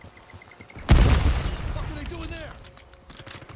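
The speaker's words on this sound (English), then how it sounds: "And a teammate kills me with a fucking grenade." A grenade explosion in a first-person shooter video game: one loud, close boom that fades over about a second, with a short high tone just before and faint game effects trailing after.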